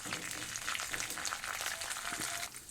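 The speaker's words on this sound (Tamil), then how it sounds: "கொஞ்சோண்டு துவரம் பருப்பு சேர்க்குறோம். 5 மிளகாய், வத்தல் மிளகாய். நல்லா இதை கொஞ்சம் பொரிய விடணும்." Toor dal and five dried red chillies fry in hot oil with a soft, continuous crackling hiss and scattered tiny pops, fairly quiet and with no voices.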